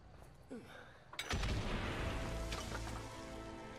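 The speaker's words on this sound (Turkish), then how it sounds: "Dinamit patlattık, hiçbir şey olmadı." Dynamite detonates in the World War I game Valiant Hearts: a sharp blast strikes, then a loud broad rumble and debris noise roll on and slowly fade, with no voices.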